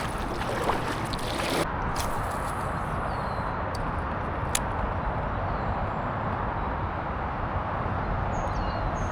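Paddling a small boat back upriver on a fishing trip, with steady broadband water wash and wind rumble throughout, a few faint splashes and bird chirps, no voices.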